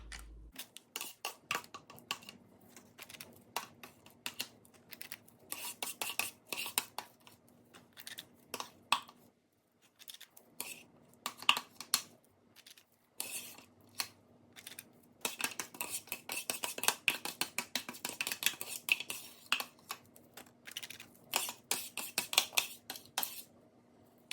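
Whole garlic cloves being chopped and processed, a quiet run of rapid, irregular knife taps on a board with clinks of utensils, pausing briefly and then resuming in dense bursts.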